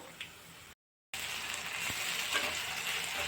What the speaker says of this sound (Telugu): ఇప్పుడైతే అల్లం వెల్లుల్లి పేస్ట్ అయితే యాడ్ చేసుకుందాం.